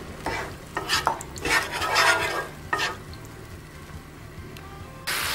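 Manchurian sauce thinned with water bubbling and cooking in a pan, with several bursts of stirring and scraping, a quieter simmering stretch, then a sudden loud hiss near the end.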